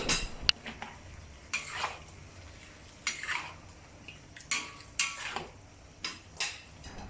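Prawns in Malaysian sambal chili paste are stir-fried over medium heat, with a spatula scraping and clacking against the pan in repeated bursts over a soft background sizzle, close by and without talk.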